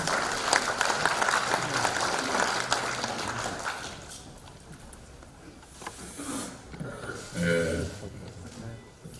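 Audience applause at a commemorative event for the 20th anniversary of the June 15 North-South Joint Declaration, heavy clapping for the first few seconds that gives way to scattered claps and room noise, with a voice heard near the end.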